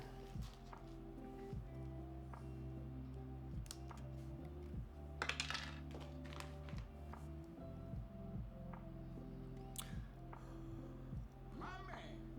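Someone types on a custom mechanical keyboard resting on stacked desk mats, producing a steady run of clicky keystrokes near the microphone over a low humming background.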